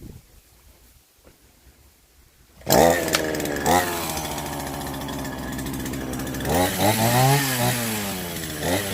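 A small chainsaw cuts through bamboo outdoors, starting abruptly after a quiet opening and running loud and close with a steady rasping engine snarl, revving higher toward the end.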